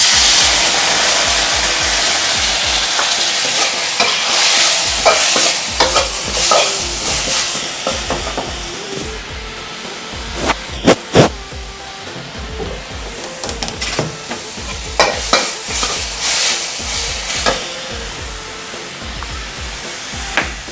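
Canned fish and chili sauce sizzle steadily in a pan as tamarind water is added, with a loud, continuous hiss broken by scraping stirs and popping spatters over about twenty seconds, close up and without speech.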